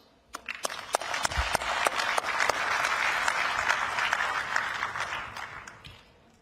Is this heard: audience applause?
yes